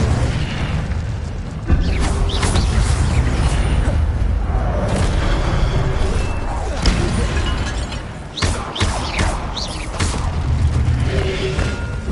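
The Incendio fire spell goes off in Hogwarts Legacy as a loud, dense game mix of booming bursts and whooshing blasts, continuous throughout, with a sharp drop and renewed eruption partway.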